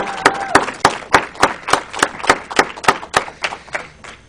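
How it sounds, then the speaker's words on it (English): Audience at a lecture clapping in a steady, even rhythm of about fourteen sharp, evenly spaced claps over a few seconds, close and clear with no talking. "Another big round of applause."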